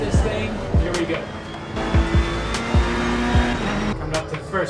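Race car in Assetto Corsa Competizione launching onto the track, a steady engine drone with several sharp low thumps and tyre noise, a voice talking over it.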